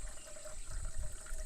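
Jaggery is stirred and dissolved in water beside a riverbank forest, a faint, continuous liquid swishing and sloshing with soft low splashes and no talking.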